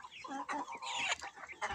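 Two-month-old Livny marbled chicks clucking and chirping in a home setting, a busy overlapping chatter of several birds, close and continuous.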